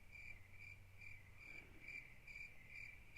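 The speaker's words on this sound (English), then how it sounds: "I can even play some crickets here." A crickets sound effect plays faint, evenly paced chirps that repeat in a steady rhythm against quiet background noise.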